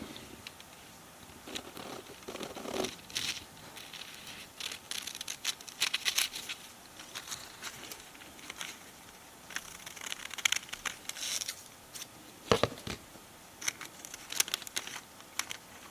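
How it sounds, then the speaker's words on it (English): Scissors cutting out a kite shape from folded paper for a children's craft, heard as irregular bursts of snipping and crinkling, close and moderately loud, separated by brief quieter pauses. "Now I'm going to take my scissors, and while the paper is still folded, cut the kite out."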